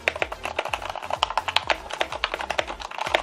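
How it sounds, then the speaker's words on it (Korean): Fast, continuous typing on a Ducky x Thinkway mechanical keyboard, with dense crisp clacks in quick irregular rhythm, close and fairly loud, and no talking. "타건 소리는 좋고요."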